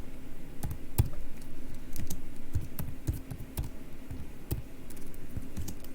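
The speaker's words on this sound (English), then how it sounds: "Let's go ahead and type in IP route," Typing on a computer keyboard while entering router commands produces a rapid, uneven stream of close, crisp key clacks and thumps at moderate loudness, with no voices.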